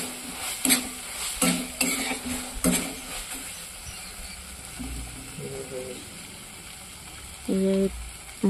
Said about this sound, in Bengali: মশলাটা সুন্দর করে কষানো, এই যে আস্তে আস্তে তেল ছাড়তে শুরু করেছে